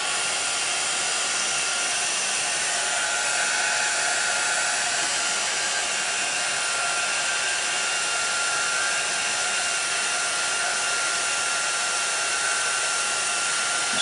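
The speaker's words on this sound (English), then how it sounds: "Just need my gun or heat tool to heat that up. And I'm going to heat that from underneath." A heat tool blows steadily for the whole stretch, warming stamped embossing from underneath on a paper card. Its broadband whir stays loud and constant, with no pauses and no voices.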